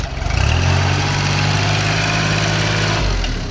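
A used Kubota tractor's diesel engine runs at a steady, loud idle with a deep, even drone throughout, close to the listener and with no talking.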